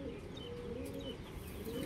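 A pure Mirab-line female pigeon of the Punjabi Malwai breed coos in low, rolling, throaty phrases, moderately near and steady, against a soft background hiss with no voices.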